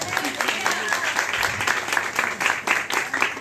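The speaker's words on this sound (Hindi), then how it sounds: "ताली तो बजाओ कम से कम।" A room full of people clapping steadily for a few seconds, a continuous patter of hands without cheering.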